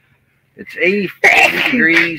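Someone sneezes once, close and loud, the sharp burst cutting through a voice talking just before it.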